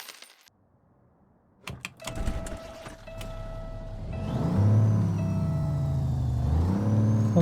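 Modded truck engine from an engine mod pack in American Truck Simulator, starting with clicks and clatter before the engine rises into a loud, steady revving drone with a whining tone above it, no talk.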